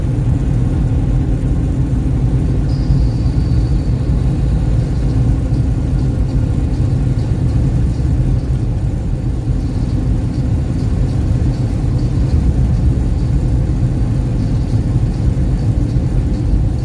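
A semi truck's engine drones steadily while driving, a loud low rumble that fills the whole stretch with no pauses and no talking over it.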